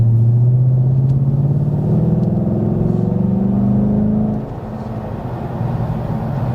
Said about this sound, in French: quand tu accélères, tu entends le velouté du V8 quand même